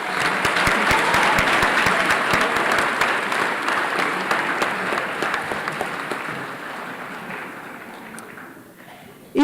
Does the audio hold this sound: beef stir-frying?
no